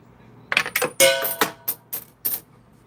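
Coins clatter and drop in a coin pusher machine, a series of sharp metallic clinks and cascades in irregular bursts, close and fairly clear against quiet background.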